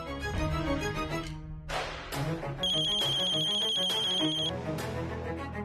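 A phone rings with a bright, repeating electronic ringtone in a drama scene, sounding clearly over music for a few seconds without speech.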